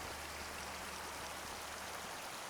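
Steady hissing rush of falling water from a waterfall in Farming Simulator 25, a dense, even wash with no pauses or voices, fairly quiet.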